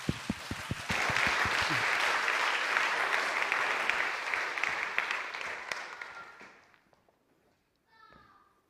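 A church congregation at a Wednesday night service claps for an elder, opening with a few separate claps, then swelling into full, close applause that fades away, followed by brief talk.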